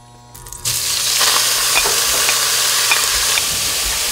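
Seasoned fern shoots stirred in a hot pan of sesame oil: a sudden loud sizzle bursts in and holds steady, with a few light clicks of the utensil scraping through.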